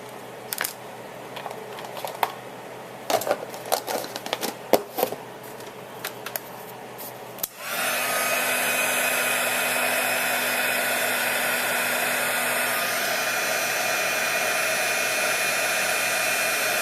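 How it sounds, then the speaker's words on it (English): A heat gun used for heat embossing a Christmas card switches on partway through with a loud, steady blowing roar that holds to the end, preceded by scattered handling clicks and rustles. "and then we're going to heat emboss that."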